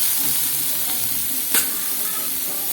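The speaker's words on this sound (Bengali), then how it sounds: "এবার বেগুনগুলোকে নেড়ে নেড়ে একটু ভেজে নেবো" Chopped eggplant frying and being stirred in a pan, with turmeric going in, gives a steady close sizzle with a faint scrape of the spatula partway through, no voices.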